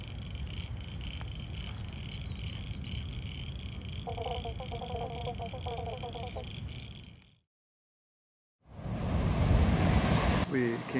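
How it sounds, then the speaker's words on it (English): Big ocean waves roll in at a rocky blowhole on the Tasmanian coast as a steady, loud surf roar with wind buffeting the microphone and faint bird calls, cutting briefly to silence before the roar returns. "the waves are much bigger today, and we thought it would be interesting to see them crashing on the rocks here"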